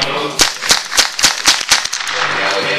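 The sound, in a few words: gunshots from a .22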